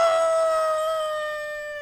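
A voice imitates a werewolf howl during a tabletop role-playing game, a long sustained tonal howl with rich overtones that slowly fades.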